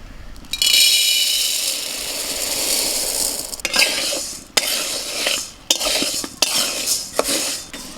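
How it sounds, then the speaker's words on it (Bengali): Dry sago pearls stirred in a dry pan for luchi: a steady rattling, scraping hiss of tiny beads against metal, with sharp clinks and scrapes of the spoon breaking in repeatedly, close and fairly loud, with no talking. "প্রথমে সাবুটা শুকনো খোলায় নাড়াচাড়া করে নেব।"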